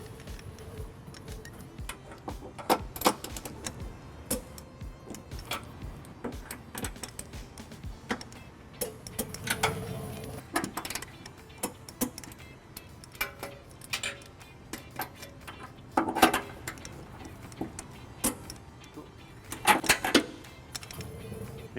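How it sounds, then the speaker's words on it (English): Bolts on a 2018 Hyundai Elantra being tightened to spec with a torque wrench, 11/16 socket and 5-inch extension during trailer hitch installation; scattered close metallic ticks and ratcheting clicks come in irregular bursts, with a few louder clusters and no talk. "we're going to tighten our bolts to the manufacturer specified torque using an 11/16 socket"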